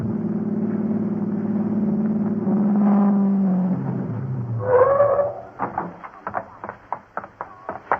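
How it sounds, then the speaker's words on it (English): A radio drama car engine effect for a highway race, with a steady loud drone that winds up and revs, then breaks into sharp clattering knocks near the end. "to replace the 2 wires you disconnected and get Larry's car started."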